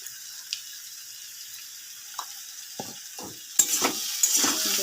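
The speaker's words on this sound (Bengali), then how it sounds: "একটু কষে নিই" Potatoes frying with turmeric in a pan, a soft steady sizzle broken by a few scattered stirring scrapes, then louder crackling and spatula strokes near the end, close and without talk.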